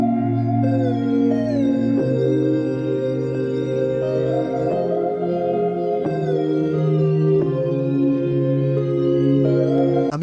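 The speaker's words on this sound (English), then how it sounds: "To make it more melodic, I added these synth counter melodies." Layered synth counter melodies with pitch slides weave over a sustained low bass and chords in a trap-style pain beat, playing continuously and prominently with no voices.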